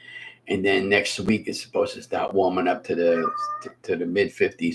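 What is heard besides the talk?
domestic cat meowing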